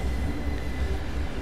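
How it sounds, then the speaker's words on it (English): Class 33 diesel locomotive hauling a freight train slowly up a steep hill at about 5 mph in Train Simulator 2015, a steady low engine drone and rumble, close and continuous with no talk. "this train is seriously struggling on this hill in the power setting I have"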